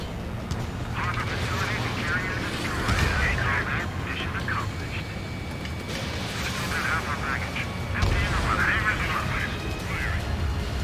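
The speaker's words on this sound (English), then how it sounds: "Bomber hit by a missile." Dense combat noise from Ace Combat 7 as a missile strikes a bomber, with bursts of explosive rumble and jet roar running steadily under radio chatter throughout.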